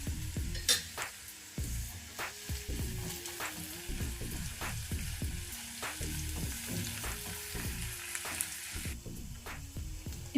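Ginger garlic paste sizzles and fries in a hot pan while a spoon stirs it steadily, with repeated scraping and clinking strokes over a continuous close, loud sizzle.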